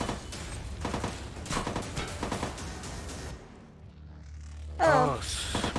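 Gunfire aimed at the player in a VR shooter, rattling in repeated bursts at moderate loudness with a sharper burst near the end, while people talk over it.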